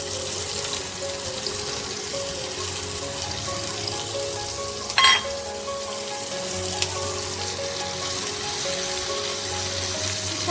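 Chopped onion hits hot oil in a pan with nigella seeds, giving a steady, hissing sizzle throughout, with one brief louder crackle partway through.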